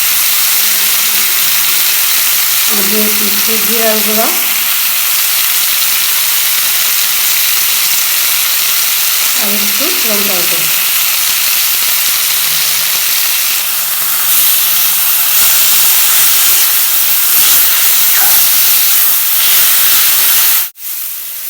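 Bay leaves fry in a hot pan, giving a loud, steady sizzling hiss that runs the whole time, with a couple of brief bubbling spurts and no talking.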